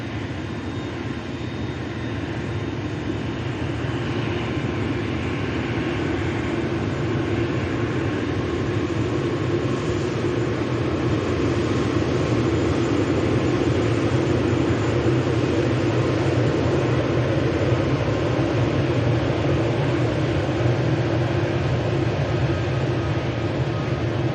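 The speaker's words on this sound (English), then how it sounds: "Airbus A380 taxiing back into Terminal 2 at Manchester Airport" Airbus A380 taxiing at Manchester Airport, a steady broad jet-engine rumble and whine holding at an even, moderate distance for the whole stretch with no talking.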